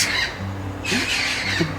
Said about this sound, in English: do you hear those birds? Those birds are having a good time.